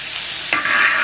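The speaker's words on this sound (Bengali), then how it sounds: "এটাকে একটুখানি 2 মিনিট নাড়াচাড়া করবো" Vegetables fry in a pan and are stirred, giving a brief scrape over a steady, close sizzle, with no talking.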